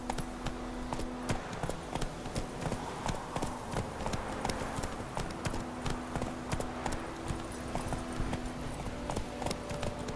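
Rhythmic clip-clop of horse hooves at a steady gallop in The Witcher 3, loud and continuous across the whole stretch with a low musical drone underneath and no speech.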